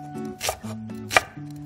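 A kitchen knife slices a large green onion (daepa) diagonally on a board, giving two crisp, separate chops over a faint tonal hum, with no voices.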